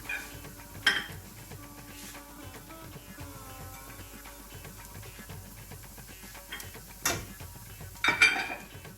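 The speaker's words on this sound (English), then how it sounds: "Mix it all up again." Vada pav potato filling with chopped coriander being mixed in a bowl, heard as soft, quiet scraping and shuffling broken by a few louder clinks of a spoon against the dish.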